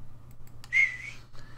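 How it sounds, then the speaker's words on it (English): A grass whistle blown in the Salem video game gives one short, bright whistling tone of about half a second, fairly loud against a low background hum, with faint clicks around it. "Right, so one grass whistle."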